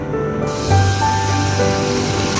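Oil and garlic-ginger paste hit a hot pan for mutton gobhi gosht, setting off a sudden loud sizzling hiss after a brief quieter moment that then continues steadily.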